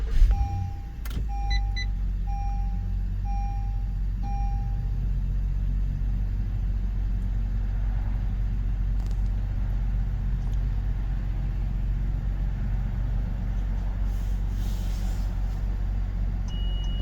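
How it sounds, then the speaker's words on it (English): A Honda car starting up and idling, a sharp start-up thump followed by a chime, then a steady low engine rumble that holds evenly for over fifteen seconds, close by with no talk. "start up the car"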